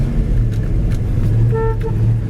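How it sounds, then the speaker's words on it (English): A 1967 Mercury Cougar XR7 with a 390 S-code engine gives a short, single honk of its horn over a steady idling engine rumble. "Horn works, wipers work."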